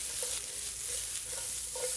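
Tofu steaks searing in a hot pan, a dense continuous sizzle at close range, with no voices.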